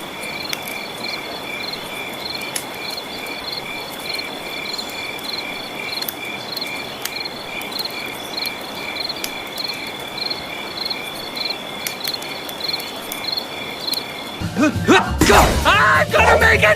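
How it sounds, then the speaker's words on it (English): Crickets chirp in a steady pulsing chorus through woods at night, an even trill running continuously before a sudden burst of loud voices and noise cuts in at the end. "everybody should be used to hearing crickets out at nighttime or in the woods"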